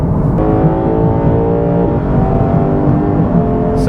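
A 2022 Lexus IS 500 F Sport with a rear-wheel-drive V8 accelerating hard, its engine note close and loud with steady rising harmonics, pulling through a gear change around the middle without pause.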